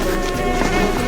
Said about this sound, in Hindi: यहाँ पर बस कुछ मच्छरों और कुछ कीड़ों को छोड़ा है ताकि तुम्हें सच में एक नेचुरल सी फील आए।